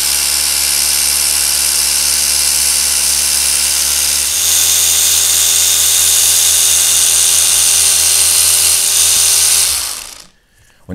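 A Liquid Elements A1000 Mini cordless polisher runs on speed level 4 on a car pillar, a loud, close, continuous high-pitched whir that shifts slightly midway and then winds down near the end.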